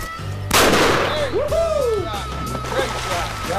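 A single loud shotgun blast fires at a duck during a duck hunt in Oklahoma, a sharp close report followed by a fading echo, with a duck call or whistle sweeping afterward and faint background noise.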